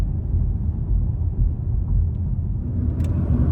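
A car drives along and turns, its engine and tyre rumble forming a steady, close, low drone that holds through the whole stretch without talk.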